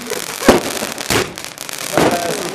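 Fireworks shot off outdoors by neighbours around New Year, three loud sharp bangs about half a second apart, each with a crackling decay.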